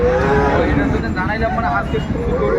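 Sahiwal heifer calves and cattle at a farm give close, drawn-out moos, one near the start and another wavering call in the middle, with people talking nearby throughout.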